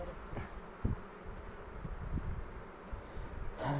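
Dense buzzing of many Carnostep honey bees hums continuously close by during honey harvesting, with small knocks and rustles scattered through.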